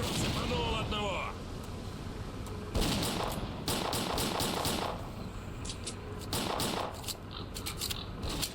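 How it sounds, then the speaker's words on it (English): Gunfire in the shooter game Stalker: Clear Sky, with shots fired through walls: loud bursts of rapid shots in two main volleys, preceded by a brief voice. "The classic shooting through walls."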